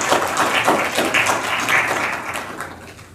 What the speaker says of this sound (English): Can we give a round of applause for our panelists?